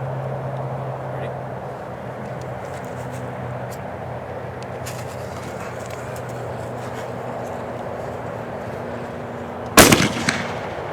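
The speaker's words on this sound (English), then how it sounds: "Is that a crackler?" A fireworks artillery shell crackler goes off near the end with a sharp loud burst and crackling, after a stretch of steady outdoor background and voices.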